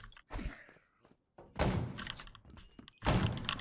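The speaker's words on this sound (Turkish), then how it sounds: "Dur şunlara bomba atacağım" A grenade lobbed at a group of zombies in PUBG Mobile's zombie mode, heard as a few dull thuds and thumps, the last two strong and close, separated by short gaps.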